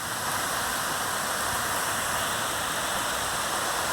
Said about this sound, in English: Yeah, it's pouring.